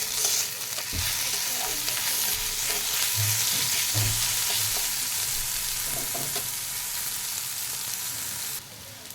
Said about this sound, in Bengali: এবার আমি এখানে আদা রসুন বাটা দিয়ে দেবো, একসাথে বাটা আছে আদা রসুন, ওটাও ভালো করে ভেজে নেব এই পেঁয়াজের সাথে